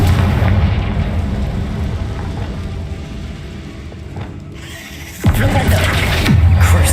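A deep rumbling blast from a Confringo spell in Hogwarts Legacy, a sustained boom that fades, then a sharp second burst of crackling impact noise, loud and close.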